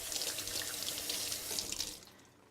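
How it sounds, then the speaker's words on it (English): Tap water runs into a kitchen sink as hands are rinsed under it, a close, steady splashing rush that tapers off as the faucet is shut. "Let me rinse my hands real quick."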